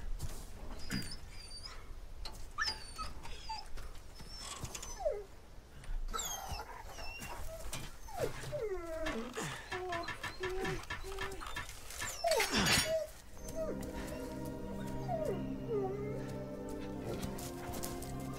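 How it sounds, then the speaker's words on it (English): A dog in a modded Resident Evil 4 video game whimpers, whines and howls in repeated rising cries, set against game sound effects and a burst of noise. "It's the legendary dog, Suicune."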